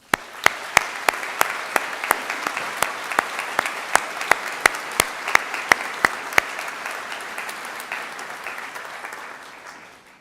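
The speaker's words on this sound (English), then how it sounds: "let us give your friends and family here in the Whitla and those joining us online a well-deserved round of applause" Graduation ceremony audience applauding in a hall, steady sustained clapping from a large crowd, opening with sharp individual claps and slowly tapering off.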